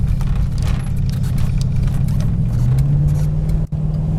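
A car in overdrive pulls onto the freeway at moderate throttle, its engine a loud, steady low drone whose pitch climbs smoothly midway, with road noise around it.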